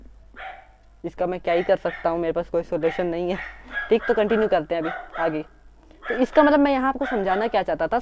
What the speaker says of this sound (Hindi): ये कुत्ता है भौंक रहा है